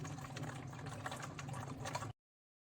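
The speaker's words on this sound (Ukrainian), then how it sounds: "Наповнюємо бачок, відкриваю кран." Water flows from an opened tap into the small tank of a model hydroelectric plant with water purification, a steady broadband rushing and gurgling pour lasting about two seconds before stopping abruptly.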